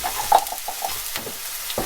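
Onions and garlic hitting hot olive oil in a pan, a bright crackling sizzle with a few sharp pops, close and moderately loud, no voices.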